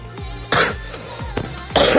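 Several sharp coughs or throat-clearing bursts from a person nearby, loud and abrupt, with two strong bursts separated by quieter breathy pauses.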